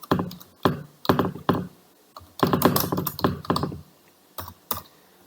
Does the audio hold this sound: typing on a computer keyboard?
yes